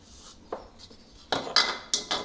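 The lid of a small grinder jar comes off after spices are ground to powder, giving a few light metallic clinks and scrapes, close and fairly quiet, with no speech.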